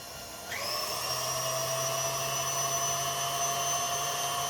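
Electric mixer beating egg yolks for tiramisu, switching on with a rising whine and then holding a steady, even motor hum close by.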